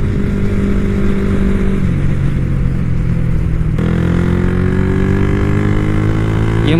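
A motorcycle fitted with an AQS Pro quickshifter is ridden hard, its engine loud and close as revs climb steadily, with quick clutchless upshifts cutting the pitch abruptly twice before it rises again.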